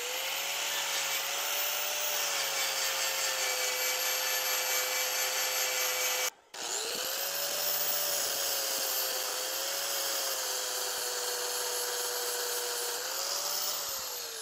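A steady, loud abrasive grinding whine runs continuously, briefly stopping once before resuming, as a sanding wheel grinds paint off metal.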